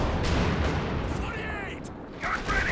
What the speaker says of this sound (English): Big rifle nades.